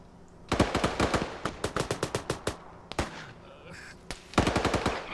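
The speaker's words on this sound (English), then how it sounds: "Well, that's what your minigun is good for." Minigun fire in Arma 3 multiplayer, loud rapid bursts of gunfire with a brief pause and a single distant shot before another sustained burst resumes.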